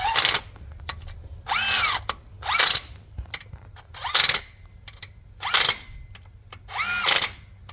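A power tool tightens the front timing cover bolts on a 2011 Nissan Navara D40 with the YD25 engine. Six or seven short whirring bursts sound close by, each about half a second long, with clicks and quiet handling noises in the gaps.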